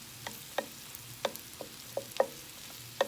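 Mushrooms cooking in a pan for shrimp scampi, a soft steady sizzle with light scattered clicks and taps of a utensil against the pan, close and fairly quiet, no voices.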